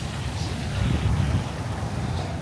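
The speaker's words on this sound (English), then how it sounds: "It's a little windy now, so hopefully you can hear me." Steady wind gusting across a microphone outdoors at Dinosaur Park, a low continuous rumble that swells slightly midway and never drops out.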